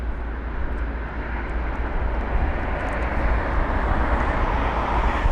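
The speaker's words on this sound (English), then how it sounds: "We have got the Saudi 777-300ER registered as Hotel Zulu Alpha Kilo 41 from Riyadh" Saudi Boeing 777-300ER airliner at London Heathrow, a steady, loud broadband jet roar with a deep low rumble that holds constant and swells slightly across the stretch, heard alone without voices.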